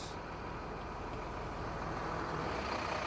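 A diesel vehicle idles steadily during a fuel injection cleaning service, running off a chemical canister; a continuous low engine rumble holds close and even throughout with no talk.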